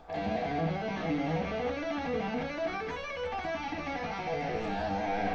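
Smooth, flowing legato guitar line played without hybrid picking, notes slurring up and down in a continuous run across strings, moderately quiet, played alone without talking.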